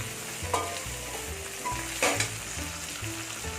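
Green chillies and tomatoes sautéing in a pan for mutton kulambu, a steady close sizzle broken by intermittent scraping stirs and a couple of sharper clinks, with no talking.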